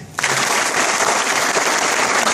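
Applause from the audience at a meeting breaks out suddenly and keeps up as a loud, dense wash of many hands clapping, with no voice over it.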